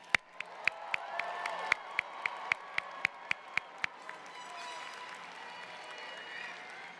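At a Moore High School commencement ceremony, a crowd applauds and cheers softly in the background while one nearby pair of hands claps in a fast, even rhythm, then stops as the murmur continues.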